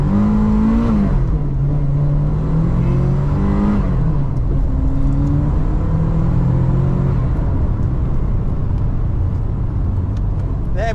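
A Maserati Shamal accelerates hard at full throttle, the engine note climbing and dropping as it shifts through the gears, heard loud and close from inside the car.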